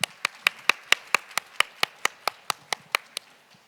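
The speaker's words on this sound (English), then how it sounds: "why don't we express our appreciation to those 2 presidents by giving them a round of applause" A single pair of hands claps in an even, brisk rhythm, about sixteen sharp, close claps, for two presidents at an AsiaTEFL general meeting, with no other sound between them.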